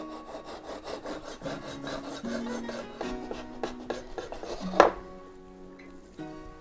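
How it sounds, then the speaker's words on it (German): An adjustable cake knife set to 1 cm saws through an eggnog sponge cake layer, giving repeated close rasping back-and-forth strokes, with a sharp scrape as the blade finishes the cut. "Ich stelle mein Messer auf 1 cm hier ein und dann kann ich auch wunderbar durchschneiden"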